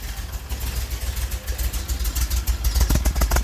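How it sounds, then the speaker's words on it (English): A car engine idling low and rough, with an uneven low throb that picks up some sharper, pulsing bursts toward the end, close and steady with no talking. "Idling a little low, a little rough."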